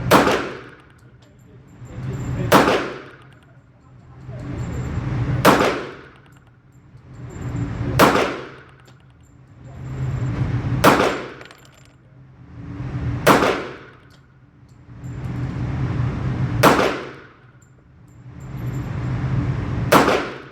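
Sharp pistol shots from a Bul Armory SASII Tac Commander stainless steel .45 ACP at an outdoor range, eight loud single reports spaced a couple of seconds apart, each followed by a ringing decay.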